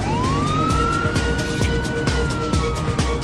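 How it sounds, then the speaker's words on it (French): Wailing sirens from fire trucks rushing onto an airport runway sound loud and continuous, one rising tone holding steady over a rumbling engine bed. "9 camions de pompiers viennent de toute urgence se poster sur une des pistes de l'aéroport."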